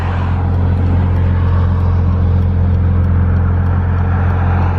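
A BMW E46 M3 with the S54 inline-six idles near warm-up temperature, a loud, steady, low exhaust drone with an even rumble that holds without revving, close to the car and with no talk.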